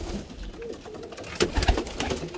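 Pigeons in a friend's loft, low soft cooing and some wing or body shuffling, close by with a few louder flutters toward the end.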